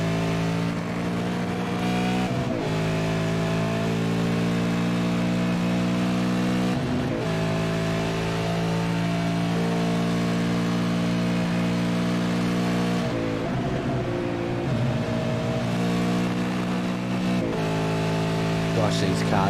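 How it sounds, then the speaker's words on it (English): V8 Supercars roar through a sim racing game at Spa, a sustained, smooth engine drone with gear changes and pitch dips between shifts, loud and continuous. "Gosh, these cars sound good."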